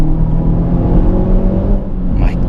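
Engine of a 2018 Honda Civic Type R pulling hard out of a corner, a loud, steady droning rumble with rising tone that stays close and continuous and carries no speech over it.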